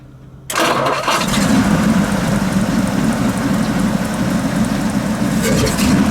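After a brief quiet moment, the engine of a 1938 Packard Twelve Model 1607 formal sedan cranks and catches, then settles into a steady, loud, rumbling idle that continues to the end.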